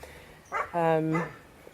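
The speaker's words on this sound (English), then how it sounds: "the dog is barking either at a stone or a frog" A single dog barks twice in quick succession, a short yip followed by a longer, drawn-out bark, fairly close with quiet surroundings.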